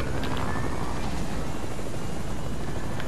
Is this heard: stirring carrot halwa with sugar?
no